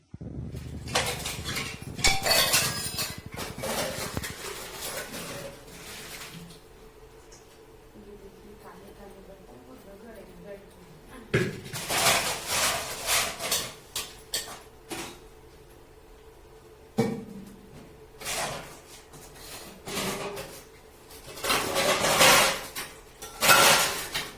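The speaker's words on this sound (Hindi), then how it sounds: "हम तो इसको रगड़ रगड़ के साफ मांजते हैं एकदम पूरा अच्छे से" Metal utensils scrubbed and washed by hand in a home kitchen, bursts of clattering, scraping and clinking pots heard close, separated by quieter pauses with occasional talking.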